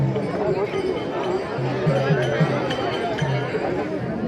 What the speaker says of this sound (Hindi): तो देखो कितनी सारी भीड़ है।